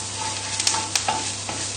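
Garlic, shallots and thyme fry in butter in a pan with a steady, close hiss, while a few light stirring scrapes and taps break through the sizzle.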